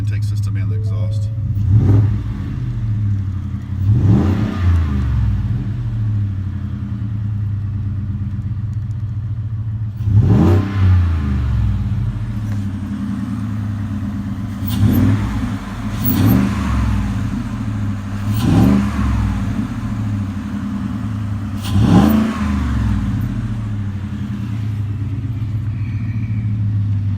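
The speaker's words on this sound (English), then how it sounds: "you should be able to hear the intake system and the exhaust" A 2018 Ford F-150 with a cold air intake and Magnaflow dual exhaust idles with a deep steady rumble, broken by about half a dozen sharp revs that swell and fall back.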